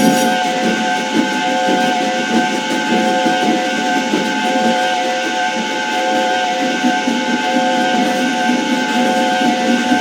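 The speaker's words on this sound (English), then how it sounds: "Gordon went on whistling and whistling and whistling." Steam engine Gordon whistling on and on at a big railway station, a loud, continuous steady shrill whistle with hissing steam underneath, unbroken for the whole stretch.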